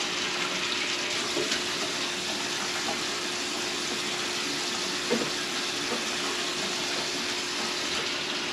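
Two cups of hot water pour in a steady, hissing stream, a continuous wash of sound with one small splash partway through.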